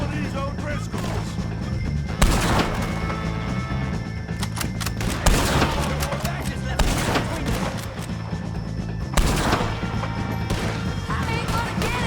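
Repeated gunshots and rifle fire crack through a chaotic Red Dead Redemption 2 shootout against O'Driscoll gang members, bursts landing in clusters over a rumbling battle background with shouting voices mixed in.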